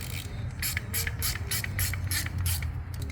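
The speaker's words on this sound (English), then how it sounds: "we'll take our, not a regular Torx, an actual Torx Plus bit on." A Torx Plus bit on a ratchet runs a bolt in during a Ford 7.3 Godzilla engine swap: steady rapid ratchet clicking in about eight even bursts over a constant low shop hum, close and fairly loud.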